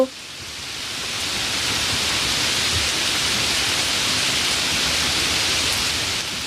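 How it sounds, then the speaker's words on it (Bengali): Heavy continuous rain in an animated cartoon scene, a dense, even hiss of falling water that swells in after a brief start and holds steady throughout with no talking. "যেভাবে বৃষ্টি পড়ছে এই তাতে তো মনে হচ্ছে মাঠে সব ফসল একেবারে ডুবে যাবে"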